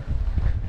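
Low, rumbling buffets of wind hitting the microphone, continuous and close, on the coast near Cape Spencer Lighthouse, Yorke Peninsula, South Australia.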